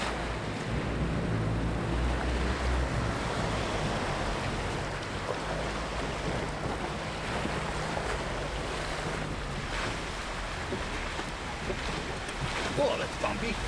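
A 4WD towing a caravan pushes through creek water on the Old Telegraph Track in Cape York, giving a steady, close rush of sloshing water and engine rumble with a constant low drone and wind buffeting throughout.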